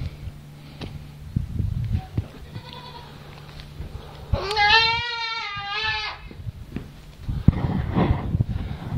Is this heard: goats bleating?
yes